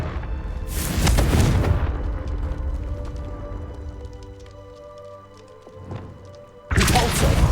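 A Confringo blasting spell exploding in the video game Hogwarts Legacy, with a deep booming blast and rumbling debris that fade over several seconds, followed by a second loud burst, no talking.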